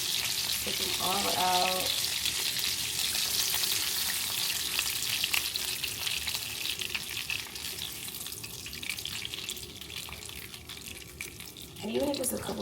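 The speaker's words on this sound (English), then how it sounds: "meat is done browning" Meat browning in a pot gives a constant, loud sizzle with occasional stirring, while a person talks briefly at the start and again near the end.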